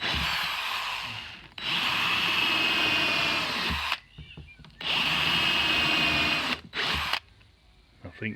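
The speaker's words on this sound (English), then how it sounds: "I'm going to have to drill a couple of little vent holes in here just so the air can get out" A power drill bores vent holes in a grey waste tank on a Citroen Relay campervan, whining loudly in two long sustained runs of a few seconds each with short pauses and handling noise between them.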